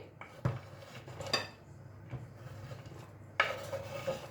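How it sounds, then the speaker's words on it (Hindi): Chopped chocolate stirred into eggless chocolate chip cookie batter in a bowl, a few soft scrapes and light clinks of a utensil against the dish, close and quiet. "चॉकलेट को बैटर में हम अच्छे से मिक्स कर देंगे"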